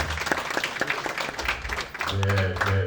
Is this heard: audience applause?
yes